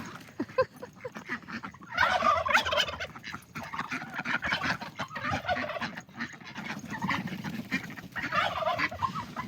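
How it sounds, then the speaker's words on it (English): Turkeys gobble repeatedly outdoors in a yard, a loud, rippling chorus of overlapping bursts that swells and fades across the clip with no talking over it. "Those turkeys are gonna get ya."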